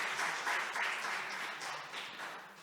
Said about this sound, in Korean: 여러분 인사하실 때 뜨겁게 박수로 환영해 주시면 좋겠습니다.